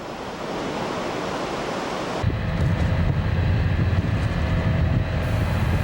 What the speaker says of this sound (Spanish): El mar se mantenía con un oleaje constante